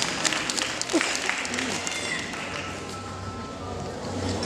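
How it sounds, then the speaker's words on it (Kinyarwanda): An audience clapping together at a gathering: dense, continuous applause of moderate loudness, with a voice audible over it. "Mumfashe dukomere amashyi Imana kugira ngo yabaye."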